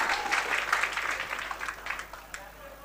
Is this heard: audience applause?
yes